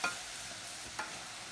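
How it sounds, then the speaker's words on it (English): A spoon stirs flour through melted butter in a pan over gentle heat, giving a soft sizzle with two brief scraping strokes, close and quiet. "But we just keep stirring it"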